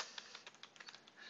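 Typing on a computer keyboard while modeling a bedroom in 3D software, a quick run of faint, close key clicks in an irregular rhythm, with no speech.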